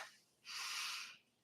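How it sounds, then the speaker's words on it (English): A single deep breath drawn in and let out, soft and close, a breathy hiss lasting under a second with no talking. "I'm going to take a deep breath"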